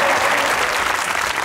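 A studio audience on a comedy talk show claps in a dense, steady burst of applause, loud and continuous throughout with no speech over it.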